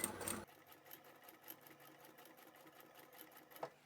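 A domestic sewing machine runs a back-stitch seam on cotton or upholstery fabric for a boxy bag, its rapid even needle rhythm steady and close after a brief louder burst at the start.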